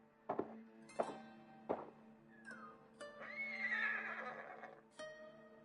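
A horse whinnies loudly in the video game Ghost of Tsushima, a long shrill neigh in the middle, among heavy thuds and hoof clops, with no voices.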